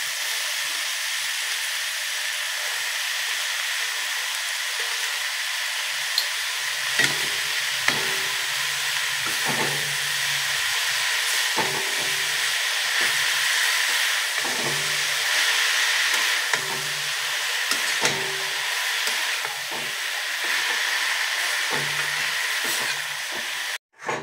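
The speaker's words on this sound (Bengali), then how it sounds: "শাকটা সবজির সাথে ভালোভাবে কষানো হয়ে গেছে" Mustard greens sauté with vegetables and spices in a hot pan, a steady close sizzle and hiss broken by regular scraping stirs of a spatula.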